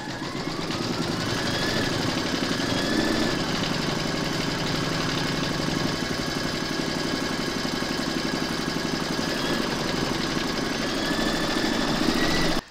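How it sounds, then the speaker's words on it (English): An embroidery machine stitching appliqué fabric held in a hoop, a steady, fast mechanical whirring and rapid needle chatter running continuously at close range, no talking. "You're now going to stitch round number three, and that's going to secure the fabric in place."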